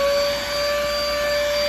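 A SIUMXR handheld vacuum cleaner runs with strong suction, a loud, steady close whine with a sharp high tone and no break.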